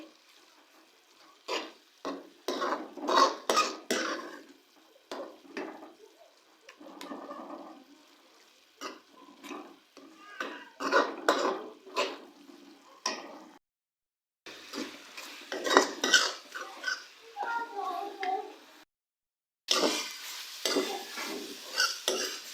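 Qeema, minced meat, is being stir-fried and browned in a pan close by, with rhythmic bursts of scraping and stirring over a light sizzle and pauses between the strokes.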